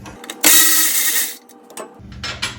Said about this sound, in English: I've got a 12mm wrench here